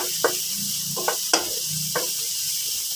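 Vegetables being sautéed with duck in a Filipino home kitchen pan for a miswa and patola dish, a steady sizzling hiss broken by a few sharp stirring scrapes, close and alone.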